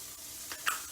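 Chicken sausage sizzling in a skillet for a Cajun shrimp dish, a brief, faint steady crackle with one small pop near the end.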